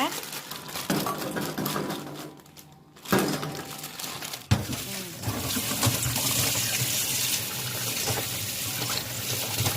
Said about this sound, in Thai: ล้างให้สะอาด แล้วสองน้ำเนาะแล้วน้ำที่สามเนี่ย แช่ไว้แล้วใช้ได้